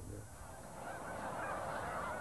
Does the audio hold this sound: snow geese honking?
yes